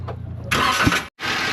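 A Toyota Avanza's engine cranks and fires, producing a loud burst of starter and engine noise that briefly cuts out, then resumes as a steady running sound, heard up close.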